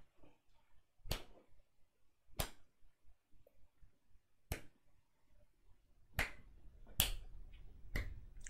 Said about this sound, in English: Finger snaps threateningly.